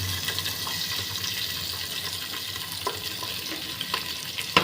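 Two ground onions, added as a paste to a pressure cooker on a low flame for country chicken biryani, fry with a steady hiss and sizzle, broken by a few faint scraping stirs and a sharper clink near the end.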